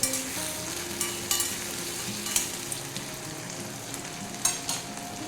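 Garlic frying with kohlrabi in a pan gives a steady, close sizzle, with a few soft clicks from stirring and no one speaking.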